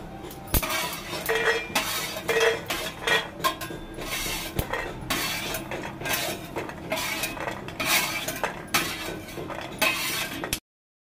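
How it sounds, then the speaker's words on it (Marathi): Roasted peanuts being scooped out of a pan with a metal utensil, giving steady scraping and clinking of metal on cookware with sharp knocks throughout, close and fairly loud, with no talking. "आता मी शेंगदाणे हे काढून घेते।"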